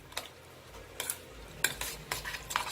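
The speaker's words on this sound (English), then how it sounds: "Mix this very well" A spoon mixing fried onions into a mutton marination in a bowl, soft wet stirring with several sharp metallic clinks and scrapes against the dish.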